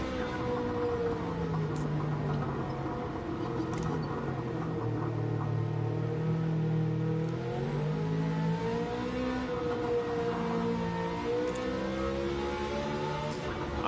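A Red Bull open-wheeler race car in the Gran Turismo 7 video game drones steadily, its engine tone rising and falling with shifting pitch as it runs continuously at moderate volume.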